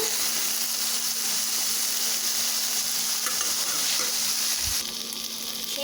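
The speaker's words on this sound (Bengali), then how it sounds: "কুমড়ো বড়িগুলো এত কষিয়ে নেব" Pumpkin bori lentil dumplings fry in a pan with a steady, loud sizzle and occasional stirring scrapes, continuous throughout with no talking.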